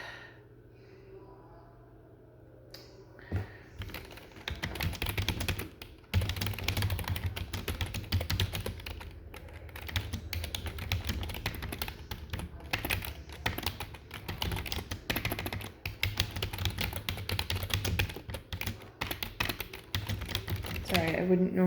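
Computer keyboard typing runs as a steady patter of clicks through most of the stretch, under a person talking and occasional breathing.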